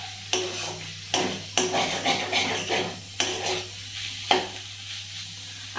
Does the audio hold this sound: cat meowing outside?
no